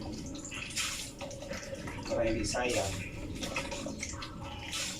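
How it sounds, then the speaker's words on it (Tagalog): Water runs and splashes from a pressurised water tank in a steady stream while a person talks over it in Filipino. "Tapos itong tubig, papandilig natin dito sa mga halaman"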